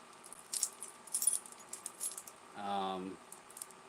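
A keychain loaded with a whistle, fire starter, bottle opener, small flashlight and little keys jangles in several quick metallic bursts, followed by a short tonal squeal near the end, all fairly close with no talking.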